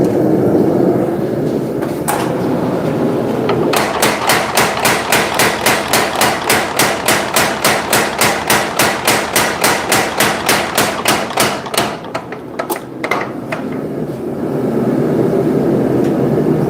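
A hammer striking hot metal at a forge, a long fast run of regular ringing blows roughly three per second, loud and close, broken by a few slower strikes near the end.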